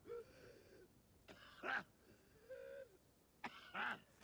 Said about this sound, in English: Ooh, that was a cough